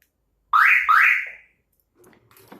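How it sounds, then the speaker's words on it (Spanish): A car alarm chirps twice in quick succession as the car is locked, loud and close, followed by faint low background sound. "Cerramos el auto, nosotros acá tenemos la alarma,"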